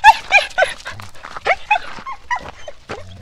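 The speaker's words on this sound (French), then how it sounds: "Qu'est-ce qu'il peut être con, ce clébard?" Dog whimpering and yipping in a string of short, high, nasal cries, close and fairly loud, with brief pauses between the whines.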